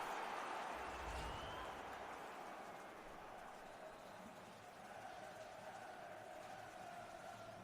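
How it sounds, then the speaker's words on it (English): A low, distant crowd murmur swells and hums steadily in the background, like a stadium full of spectators waiting, with no clear voices standing out; a FIFA 20 video game crowd. "Derek, listen to the crowd. They're expectant"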